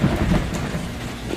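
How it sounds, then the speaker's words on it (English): A thunderstorm of wind and heavy rain makes a loud, continuous roar with a deep rumble underneath, played as a storm sound effect alone, without voices. "Wind and rain buffeted Edward."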